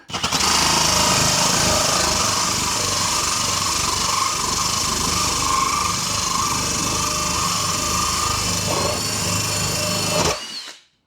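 A hole saw on a drill cuts through a house wall from a pilot hole, giving a loud, continuous grinding whir close by for about ten seconds before the motor stops abruptly.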